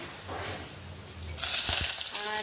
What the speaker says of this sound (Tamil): இப்போ வந்து கருவேப்பிலை போடுறோம்